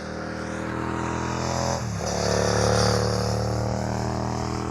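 A vehicle passes on a winding mountain road popular with bikers and cars, its engine note rising as it approaches, dipping as it sweeps by, then droning on nearby under a steady hum.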